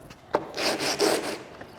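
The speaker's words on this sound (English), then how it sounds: "you can either use a sanding block, like this, just a block of wood" Sandpaper wrapped around a wooden sanding block rubs across wood during wood window restoration, making several close, loud rasping strokes in a steady back-and-forth rhythm with no talking.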